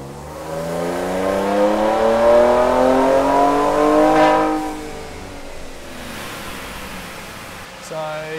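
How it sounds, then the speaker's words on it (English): A car strapped to a dyno, fitted with mid-pipe and tips, revs up through a long loud sweep that climbs for several seconds, then falls back to a lower idle drone with a fan running, before a brief blip at the end. "Let's do mid-pipe and tips, run 1. Turn the dyno fan on."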